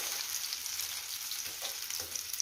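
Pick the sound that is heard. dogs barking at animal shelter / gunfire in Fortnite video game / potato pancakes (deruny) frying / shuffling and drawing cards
potato pancakes (deruny) frying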